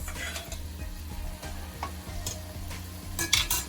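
Canned ackee stirred into saltfish in a pot: steady sizzling with rhythmic scraping of a spoon against the pot, fairly close and moderately quiet, with no talking.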